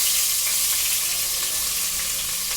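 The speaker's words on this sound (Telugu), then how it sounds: "కరివేపాకు ఇలా వేగేకండి, బాగా వేగేసి ఇదిగోండి పచ్చిమిరపకాయలు, ఉల్లిపాయలు" Curry leaves, green chillies and chopped onions frying in hot oil for a flat bean and tomato curry, giving a steady, close, even sizzle with no pauses and no voices.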